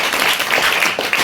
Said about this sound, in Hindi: ताली भाई के लिए एक बार।